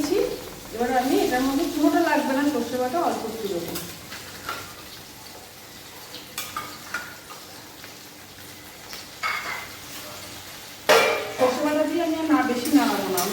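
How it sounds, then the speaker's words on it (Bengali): Pumpkin pieces fry in hot oil, a soft, steady crackling sizzle with scattered pops and stirring clicks, clearest in the middle, while a voice is heard at the start and near the end. "ভালো করে ভাজা ভাজা করে নিই"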